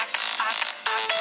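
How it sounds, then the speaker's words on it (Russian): Mobile phone ringtone for an incoming call, heard outdoors beside a pond while fishing for perch in winter; a bright electronic melody in four repeated bursts, loud and close, with no talk. "Вот даже кто-то звонит."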